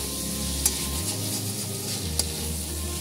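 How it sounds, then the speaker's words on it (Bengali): Chicken and potato pieces stir-frying in a pan for chicken ghugni, with a steady sizzle, a low rumble and two sharp scrapes of the spatula against the pan. "এবার ভালো করে পুরো চিকেনটা আলুটা পুরো কষিয়ে নেব একদম"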